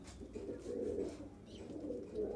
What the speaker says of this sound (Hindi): एक ये दिखा रहे हैं आपको कलसरा कबूतर